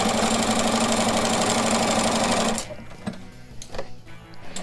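A sewing machine stitching spiderweb quilt blocks runs loud and steady with a fast rhythmic whir for about two and a half seconds, then stops, leaving soft handling clicks and rustles of fabric.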